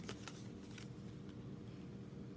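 Thick-cardstock tarot cards being handled and shuffled indoors, a few quick papery riffling bursts near the start over a steady low room hum.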